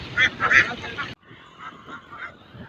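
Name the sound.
ducks at a lake duck farm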